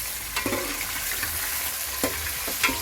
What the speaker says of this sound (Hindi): अब इसमें चिकन डाल दिया, अब इसको फ्राई करते हैं।